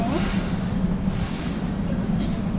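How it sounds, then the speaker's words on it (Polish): A metro train arrives at a station in Bucharest with a loud, steady low rumble and squealing wheels that fill the whole stretch. "Chyba właśnie przyjechało metro."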